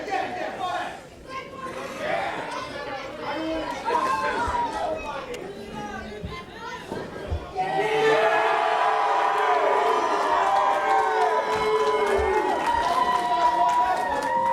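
Wrestling crowd at a live independent pro-wrestling show roars in a sustained ovation that swells loudly about halfway through, with cheers, whoops and chatter layered over steady commentary talk.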